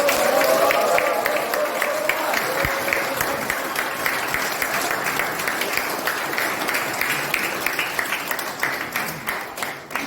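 An audience applauds after a candidacy declaration speech for Busan chair of the Democratic Party, with sustained loud clapping that slowly thins out over about ten seconds.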